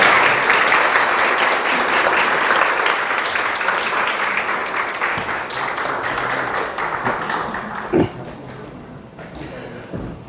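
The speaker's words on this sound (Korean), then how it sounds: "우리 큰 박수로 환영해 주시면 감사하겠습니다" Audience at a parents' school gathering at a Christian alternative school claps warmly to welcome a guest speaker, a steady wash of applause with a few louder individual claps near the end.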